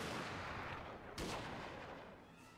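Volleys of ranged fire from Black Tortoise units in a strategy video game, a dense sustained crackle of shots with one sharper burst partway through, loud and continuous with no talk.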